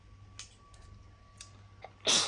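A child sneezes once near the end, a sudden loud burst after quiet indoor moments with a few faint clicks and a steady soft hum.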